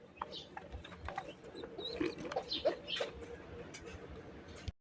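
A pair of red-coloured, pot-necked Raj Golla racer pigeons coo softly among fluttering and scattered chirps against a busy background of other birds, with no talk.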